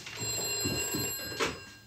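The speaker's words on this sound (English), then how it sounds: "That's the phone," Old landline telephone bell rings in a 1980 BBC drama scene, a continuous bright ringing in a room that stops briefly and then starts again, with no one speaking.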